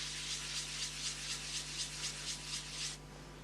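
Yorkshire Grit abrasive paste is rubbed by hand onto wood beside painted work, a soft, steady back-and-forth scrubbing of about a dozen even strokes, quiet and close, with no voices, then it stops.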